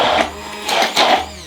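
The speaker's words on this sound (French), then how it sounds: "on branche et on mixe" An electric blender whirs through a chicken marinade in short pulses, loud and close, its motor pitch surging in two or three bursts.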